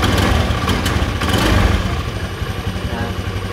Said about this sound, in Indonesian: Oke, ini motor nyala ya.